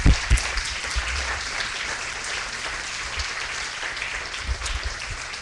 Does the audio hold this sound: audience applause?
yes